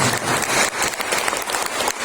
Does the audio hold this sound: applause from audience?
yes